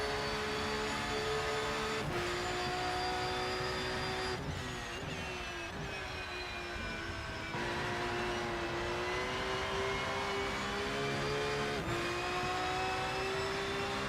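Race car engine in the Rennsport racing game, a steady droning whine that rises and drops in pitch with gear shifts and throttle changes, continuous and fairly loud throughout.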